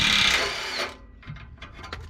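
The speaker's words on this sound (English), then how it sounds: "I'm going to hold one side with a box wrench, and I'll run the other side out with my impact." Impact wrench loosening a muffler bolt on an exhaust pipe, a loud close burst of rattling hammering that stops abruptly, followed by faint clinks and handling sounds.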